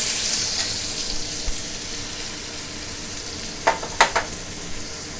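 Spinach stirred with turmeric in a frying pan gives a steady, soft sizzle, with a few sharp scrapes and clinks of the spoon against the pan near the end.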